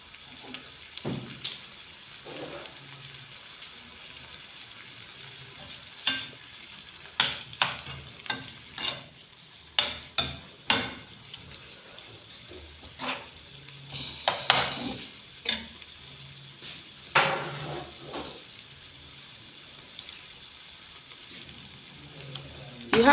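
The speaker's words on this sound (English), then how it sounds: "You have to fry it for the color to change." Meat pie filling fries in a pan, a low sizzle broken by frequent clattering stirs and scrapes of a spoon against the pan, spaced irregularly and fairly close.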